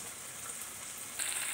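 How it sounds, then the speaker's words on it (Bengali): Paneer cubes frying in a pan, a steady soft sizzle that swells louder and brighter near the end, with no talking. "এভাবে লাল লাল করে ভেজে নিতে হবে"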